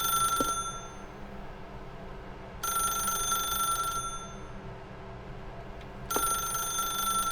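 A telephone rings in the video game The Stanley Parable, with three bright bursts of ringing separated by pauses, clear and fairly close over a low room hum.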